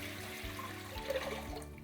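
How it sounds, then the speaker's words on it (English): Water poured into a steamer pot for making idli, a steady splashing, gurgling stream heard close up from start to finish with no talk. "into this steamer, I'm going to pour in some water that is enough to make that steam come up"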